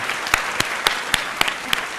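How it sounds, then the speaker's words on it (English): An audience claps in a round of applause at a speaking event, a steady wash of hand claps with a few sharper, louder slaps standing out at a regular rhythm. "Could I indulge the audience and just ask for a round of applause for Zeba's mum?"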